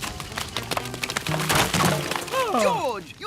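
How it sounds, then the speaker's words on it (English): A cartoon crash smashes into a termite mound in George of the Jungle, a loud burst of cracking and crunching debris, followed by voices talking over it. "George, you smashed them into a termite mound"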